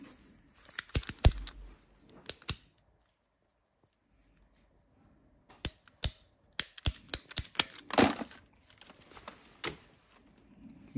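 Sharp cutting snips on an RGB neon flex strip come in two short bursts of crisp clicks, separated by a quiet pause, close and fairly loud.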